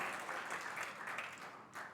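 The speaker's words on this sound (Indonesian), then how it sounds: "Tepuk tangannya sampai surga mendengar." A church congregation applauding during a Sunday service, a steady broad wash of many hands clapping at moderate loudness, swelling slightly near the end.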